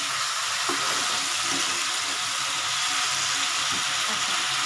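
Ghugni frying in a pan over a raised gas flame, a continuous bright hiss of sizzling with faint stirring scrapes underneath, steady and close.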